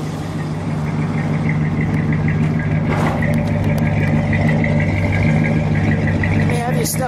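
A 1969 Chrysler 300 engine idles steadily with a low, even rumble throughout, heard up close, with a brief clatter partway through.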